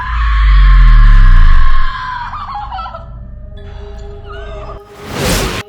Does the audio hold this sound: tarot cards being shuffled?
no